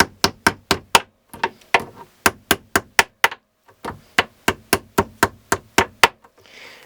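A hammer pounds a nail down into a knot foundation, about twenty sharp, evenly spaced strikes in two quick runs with a short pause between, loud and close.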